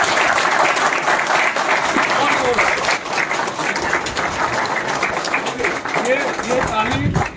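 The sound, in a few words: loud applause from conference audience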